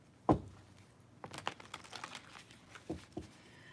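Tarot cards are drawn and handled close up, with a sharp snap, then a run of light papery flicks, shuffles and taps, and a couple of firmer card slaps near the end; no voices.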